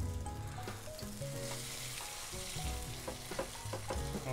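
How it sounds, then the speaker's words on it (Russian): Meatless cutlets sizzle and spit steadily in a hot pan over medium heat, a soft continuous fry with faint clinks, no talking. "И отправляем их жариться."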